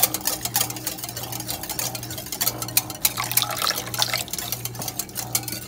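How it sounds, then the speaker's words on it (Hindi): Milk poured into yogurt for boondi raita, a close liquid stream splashing and gurgling steadily into the bowl with a low hum beneath, no talking. "अब मैं इसके अंदर ये मिल्क डाल रही हूँ।"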